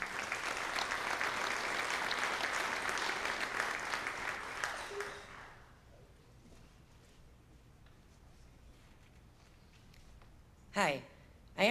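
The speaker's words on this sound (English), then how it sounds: "Let's give a warm round of applause to Ann Jakey and Laura Husnick" An audience at a high school scholarship and awards ceremony breaks into loud, sustained clapping for about five seconds, then it fades into quiet room tone, with a brief voice near the end.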